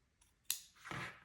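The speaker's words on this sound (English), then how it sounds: "now you need to cut it into whatever shape you want it to be" Scissors snip through quilted fabric cutting out a shape, a faint tick followed by two quick crisp cuts close by in a quiet room.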